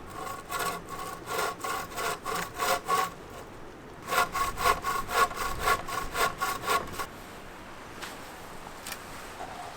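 A small hand saw cuts firewood at a bothy in two runs of rapid, rhythmic back-and-forth strokes, each rasping stroke clear and close, with a brief pause between runs.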